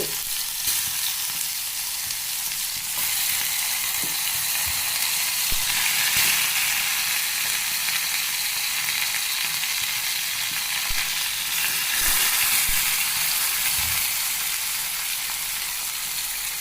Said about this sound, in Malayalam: മുളക് അറ്റി വെച്ചതാണ് കേട്ടോ അത് പൊരിക്കാൻ വേണ്ടി പോവാണ്